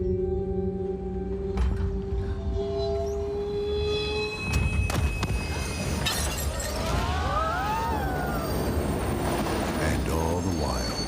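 Riding a train home, with a loud, close rumble of wheels on rails, metallic squeals, sharp clanks and a brief rattling crash, continuous throughout.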